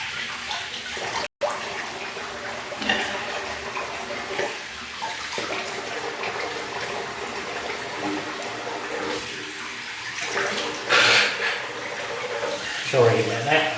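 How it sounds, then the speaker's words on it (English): Water drains from a bathroom sink and splashes as it is rinsed, a steady close rushing and gurgling with a few louder splashes near the end. "So I'll just empty out the sink and rinse it off."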